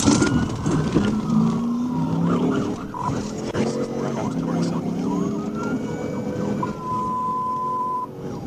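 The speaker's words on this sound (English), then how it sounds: "activate his emergency lights and siren in an attempt to initiate a traffic stop" A police car siren wails and yelps steadily during a high-speed pursuit, rising and falling in pitch, loud and close, with traffic noise underneath.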